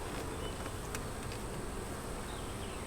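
Honey bees buzz around a hive, a faint steady hum with occasional passing individual bees, no talking.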